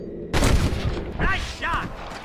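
A sharp burst of gunfire at cattle rustlers in Red Dead Redemption cracks out loudly after a brief silence, followed by someone speaking.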